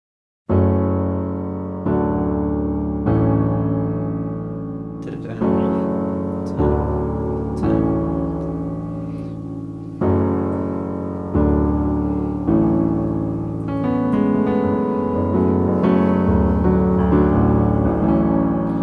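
Sustained piano chords played slowly, a new chord struck every couple of seconds in a steady repeating pattern, clear and close with no voices.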